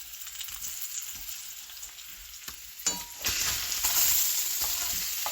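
Beef sausages and onions frying in a pan, a continuous close sizzle with stirring scrapes, swelling louder about halfway through and staying strong to the end.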